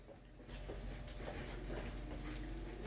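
A dog whimpers and yips softly in short repeated whines over a steady low hum, fairly close to the listener, during a dog training session.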